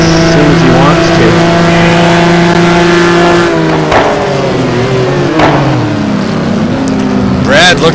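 Ferrari GT1 race cars at the Estoril circuit, a loud high-pitched engine whine that holds steady, then drops and shifts through gears with sharp revving bursts, while a commentator talks over it.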